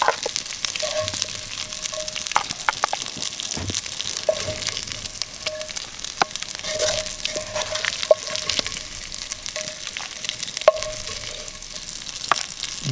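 Meat browning in a pan for trail beans, sizzling steadily with a bright crackle and occasional sharp pops and utensil scrapes, close and continuous with no talking.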